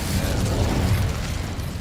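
The Incendio fire spell in Hogwarts Legacy, heard as a short, dense burst of roaring, crackling flame, loud and steady for about two seconds, with no talk.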